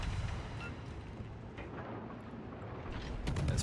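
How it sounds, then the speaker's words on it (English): A shell ricochets off battleship armor in the naval combat game World of Warships, a 15-inch round bouncing off the hull. It comes as a dense, rumbling wash of low-end noise with a brief sharp crackle near the end, and there is no talking. "that was the sound of Kaba armor bouncing a 15-inch"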